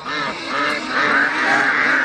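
Several farm ducks quack continuously at close range during a morning feeding, with overlapping nasal calls filling the whole stretch and no talking.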